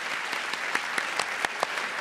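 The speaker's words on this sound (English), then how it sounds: "Please give yourselves a quick round of applause." Studio audience at the Brisbane Powerhouse applauding during a televised Q&A panel show, a steady dense wash of clapping from a large crowd with a few sharper individual claps standing out.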